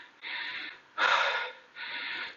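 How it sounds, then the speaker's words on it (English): Three heavy breaths during a plyometric HIIT yoga workout, close and loud, each a long rushing exhale, the middle one the strongest. "That heavy breathing you hear, it's not special effects."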